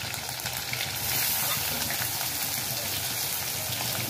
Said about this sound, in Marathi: आता जिरं पण तडतडल्यावर कांदा टाकणार आहोत